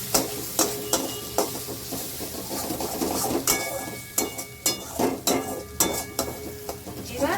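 Mushrooms fry with spice paste as a spatula stirs them in the pan, rhythmic scrapes and knocks over a steady sizzle, close by and repeating every half second or so.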